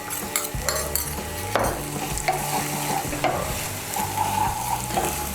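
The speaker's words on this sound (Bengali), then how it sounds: "মশলাগুলো ভালো করে তেলের সঙ্গে মিশিয়ে নিয়ে আমি এখন মশলাটাকে ভালো করে কষিয়ে নেব।" Spice paste with Kashmiri chilli powder being fried down in oil for a Bengali bean curry, with a loud, close sizzle and repeated scraping and stirring strokes of a spatula against the pan, and no voices.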